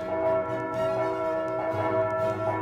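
Cathedral church bells ring continuously, their sustained metallic tones overlapping and swelling in a steady wash of sound from a moderate distance.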